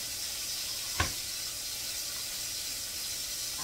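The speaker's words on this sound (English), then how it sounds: "while we're waiting for the fish to fry" Fish fries in a pan with a steady, even sizzle and hiss throughout, broken once by a single faint tap near the start.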